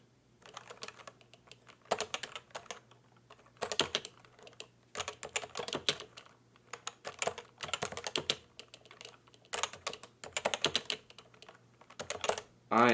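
Rapid, irregular clatter of keys on a QWERTY computer keyboard, typed in bursts with short pauses between runs of strokes, close and fairly quiet over a low steady hum.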